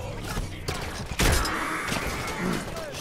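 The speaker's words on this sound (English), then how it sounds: "I got shotgunned." Heavy gunfire bursts in Halo 5: Guardians, with a sharp loud shotgun blast midway followed by rumbling, thudding impacts and mechanical creaks.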